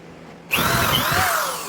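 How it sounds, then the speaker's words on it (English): A power drill boring a hole in wood for a wooden spool table build kicks in suddenly after a brief quiet moment, then whines loudly and steadily up close. "try your best to line up your drill bit and make sure it doesn't move"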